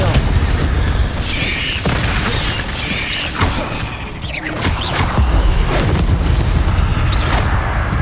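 A Confringo explosive spell in Hogwarts Legacy goes off amid loud, dense combat, with repeated booming blasts and crashing impacts layered over a constant roar, and a voice talking briefly underneath.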